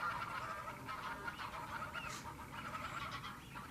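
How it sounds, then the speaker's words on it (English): Greylag geese honking at WWT Slimbridge, Gloucestershire, a busy flock calling over and over in an overlapping clamour, fairly distant and steady, with no voices. "Here were some grey-leg geese"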